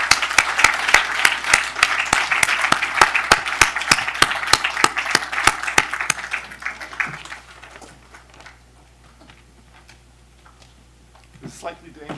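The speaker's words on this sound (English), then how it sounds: "Please give them both a round of applause" A small audience at a film Q&A session claps in distinct, fairly spaced claps for about six seconds before the clapping thins out and fades to near quiet.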